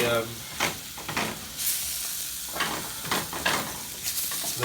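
Turkey testicle stew with paprika and onions fries in a pan, a steady close sizzle broken by several scraping stirs.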